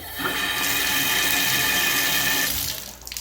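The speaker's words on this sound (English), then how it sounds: "I run it again, and as long as you see water kind of swirling when it's draining, that tells you that the drain is clear." Water runs steadily down a bathtub drain, a loud continuous rush that holds for a few seconds and then tapers off.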